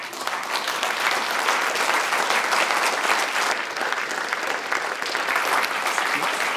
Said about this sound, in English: Ladies and gentlemen, please applaud Michael Gladwin again.